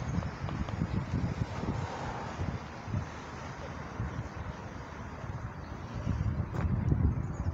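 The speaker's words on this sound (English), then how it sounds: "there's a lot of wind today" Strong outdoor wind buffets a phone microphone, producing a continuous low rumbling roar that swells and gusts, getting louder toward the end.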